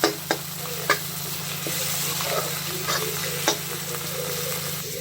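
Spices are stirred and fried with tomatoes in a pan for dal fry, a soft steady sizzle under a low hum, broken by a few sharp clicks of the spoon against the pan.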